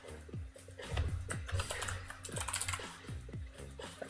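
Rapid computer keyboard typing as a file gets labeled during a coworking session, a dense run of close, crisp key clicks at a steady uneven rhythm with a faint low hum underneath and no talking.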